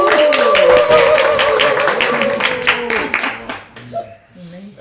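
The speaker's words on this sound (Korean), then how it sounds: "박수 한번 칠까요?" A church audience claps together for a couple's 54th wedding anniversary, a brief burst of many hands with cheerful voices and a sustained tone underneath, fading out as talking resumes.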